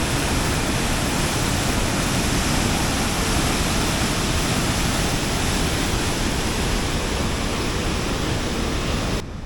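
Hidden Falls in Grand Teton National Park roars as a loud, steady, broadband rush of heavily falling water, dense and unbroken from start to finish with no voices over it.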